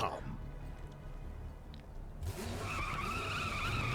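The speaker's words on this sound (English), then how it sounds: "Greenskins have got motorbikes." Ork motorbike engines in the video game Warhammer 40,000: Battlesector rev and whine, joined by skidding tires, getting louder after a quieter start and holding a steady, close drone to the end.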